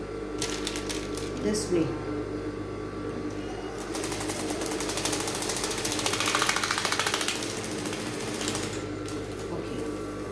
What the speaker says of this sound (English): I'm going to turn it and sew the other edge too